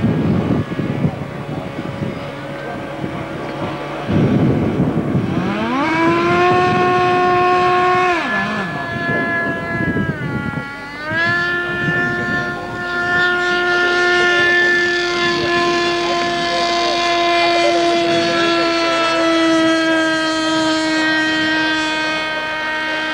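Model jet with a ducted fan driven by an OS 25 engine flying at a rally, a loud sustained whine that rises and falls in pitch as it passes, with a sharp dip and swoop midway.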